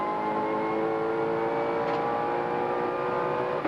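Race car at full throttle on Conrod Straight at Mount Panorama, Bathurst, during the 1990 Tooheys 1000, a steady high-revving engine note sustained throughout with strong harmonic whine.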